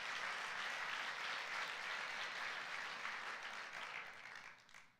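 A church congregation applauds during a Sunday service, a steady roomful of clapping that holds throughout and fades slightly at the very end, with no talking.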